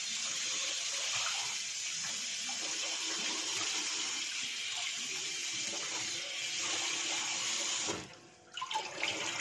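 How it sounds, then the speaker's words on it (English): Raw meat and a cow leg rinsed together under running water, a steady gushing splash that holds for about eight seconds before briefly cutting off and sputtering back. "Now I'm going to wash the meat and the cow leg together."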